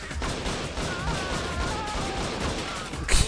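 Shotgun blasts and dense gunfire from the Judge Dredd: Dredd vs. Death video game, a steady, loud barrage of overlapping shots with a sharper burst near the end.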